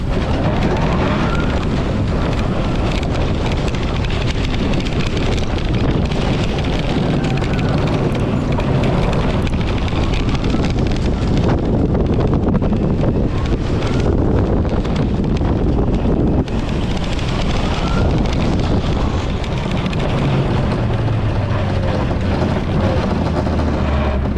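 POV ride on the first roller coaster at sea aboard a Carnival cruise ship, dominated by loud continuous wind roar buffeting the microphone with rumbling track noise, surging and easing as the ride speeds along.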